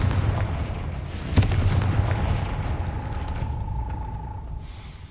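A Confringo blasting spell bursts in a Harry Potter video game, one sharp explosive crack followed by a lingering rumble and a faint sustained tone fading out, with no talk.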